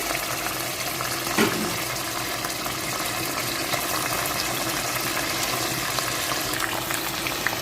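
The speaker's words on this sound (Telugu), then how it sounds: "ఆయిల్ వేడైందండి ఇప్పుడు ఉడకబెట్టుకున్న కాకరకాయ ముక్కలు వేసుకుందాము" Boiled bitter gourd pieces fry in hot oil in a pan, producing a steady, loud bubbling sizzle that runs throughout without speech.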